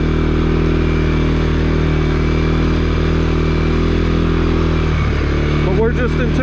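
A 2021 CFMOTO CFORCE 400 ATV engine drones steadily while riding in two-wheel drive on overgrown wooded trails, loud and close throughout, with brush scraping and clattering near the end; a rider talks over it.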